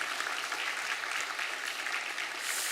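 A church congregation claps steadily to welcome a newly registered mother and her children during a Christmas Sunday service, a dense, even patter of hands filling the sanctuary throughout.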